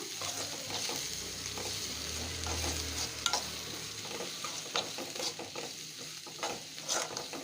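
Green chillies, chili powder and fennel seeds are stirred in a frying pan, a soft sizzle under repeated scraping strokes of a spoon against the pan, close and fairly quiet.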